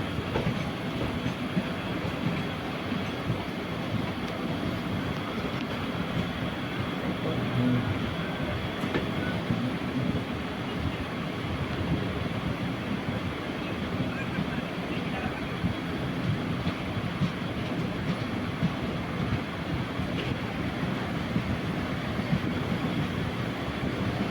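A MEMU train runs at night on the Punalur to Kollam line, slowing toward Kollam Junction, with a steady rumble and rhythmic wheel clatter heard continuously from inside the carriage.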